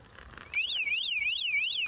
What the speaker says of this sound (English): it kicks into that alarm, which is really loud